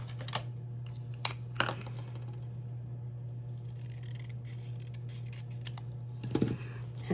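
Scissors trim a paper cutout for a handmade Valentine card, giving a few sharp, quiet snips and crisp paper rustles spaced apart over a low steady hum.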